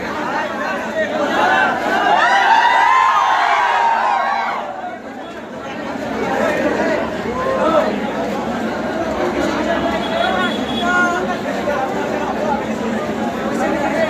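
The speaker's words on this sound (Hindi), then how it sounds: "अभी सारे स्टूडेंट लोग ये देखिए भीड़ कितनी ज़्यादा है।" Large, dense crowd of students gathered at a railway recruitment exam centre, a continuous loud babble of many overlapping voices with brief shouts, swelling early and dipping slightly before settling into steady chatter.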